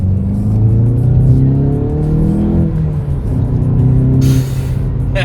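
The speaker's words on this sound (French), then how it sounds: "Et on a l'effet turbo." A Volkswagen Golf GTI Performance's 245 hp turbocharged engine revs and accelerates loudly, rising in pitch through the gears of its six-speed manual with a whooshing turbo hiss near the end.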